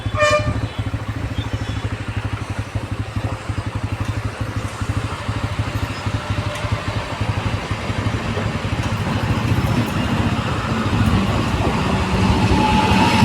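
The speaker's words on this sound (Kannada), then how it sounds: "ರೈಲು ಕೂಡ ಬರ್ತಾ ಇದೆ." A train rumbles past close by at a new railway underpass in Mangalore, a steady loud clatter and low drone that grows slightly louder toward the end, with no talk over it.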